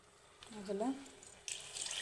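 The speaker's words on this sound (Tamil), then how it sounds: "இந்த 1 டம்ளர் அரிசிக்கு நான் இந்த சொம்பில் 1 சொம்பு தண்ணி ஊற்றுறேன்." Water is poured from a small pot into rice being cooked as Kongu-style tomato rice: a soft trickle that turns into a louder, steady splashing pour, close and continuous.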